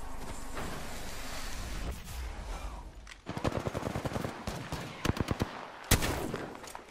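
Gunfire in the Apex Legends battle royale game: rumbling ambience gives way to rapid automatic bursts of crisp shots in clusters, with a final loud single crack near the end.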